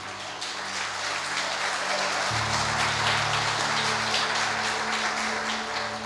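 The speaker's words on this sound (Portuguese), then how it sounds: "Aplauda ele." An audience at a church gathering applauds in a steady, full wash of clapping that lasts throughout, with a low background hum underneath.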